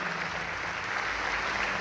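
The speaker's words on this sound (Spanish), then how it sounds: "Y la vamos a recibir con un aplauso aplauso glorioso" A church congregation applauds in a packed theater hall, a dense, steady wash of clapping that holds evenly for its whole short span, with no voice over it.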